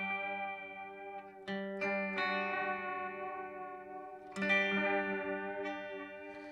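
Guitar through an MXR Carbon Copy analog delay pedal with modulation, sustained chords ringing with repeating echoes and a slow wavering pitch, struck again a few times, moderately loud and alone.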